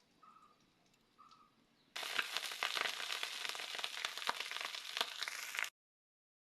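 Cooked rice tipped into hot oil with whole garam masala, cashews and raisins, breaking into a loud, dense sizzle that holds for a few seconds and then stops abruptly. Faint chirps sound before it.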